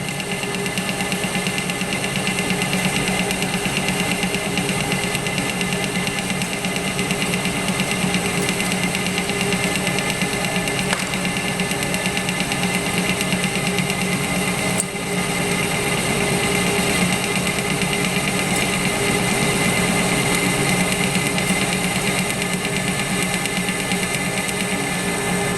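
A metal lathe takes an interrupted cut across a shaft with a keyway, giving a steady loud mechanical drone with a faint regular knock from the spinning chuck and no talking.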